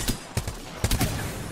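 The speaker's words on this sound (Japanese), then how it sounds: "なんか遠くから援護射撃してる人いない？" Gunfire in an online shooter game, a few separate sharp cracks and bursts spaced over a second and a half, moderately loud with no talk.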